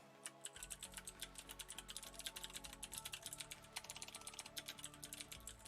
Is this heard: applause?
no